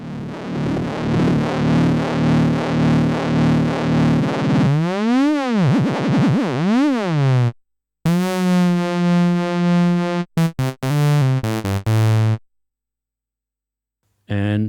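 A 1973 Moog Model D Minimoog synthesizer plays loud, continuous tones that sweep and warble, with bursts of sustained buzzy notes, abrupt cutoffs and short silent gaps.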